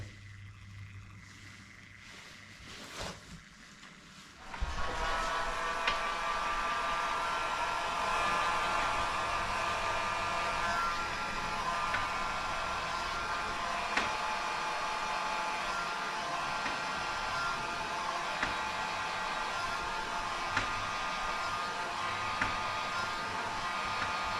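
A motorized rod dryer turns a freshly epoxy-coated carp rod on a rod builder's bench. After a few quiet seconds it starts up, then a steady mechanical whir and hum runs on without a break, with small faint clicks.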